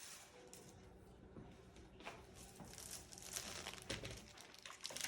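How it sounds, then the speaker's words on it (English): Cellophane wrap is handled and sized into a piece for a candy pacifier craft, crinkling and crackling close up in a continuous quiet stream of small rustles that grow slightly busier toward the end. "And our cellophane wrap"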